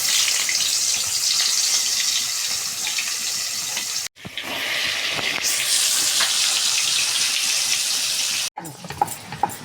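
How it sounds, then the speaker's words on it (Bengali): Fish bones coated in salt and turmeric fry in hot oil with a loud, dense hiss that swells in waves, broken by two abrupt cuts, no one speaking. "মাছের কাঁটাগুলোকে ভালো করে ধুয়ে তারপরে নুন হলুদ মাখিয়ে তারপরে একটা একটা করে ছাড়তে হবে।"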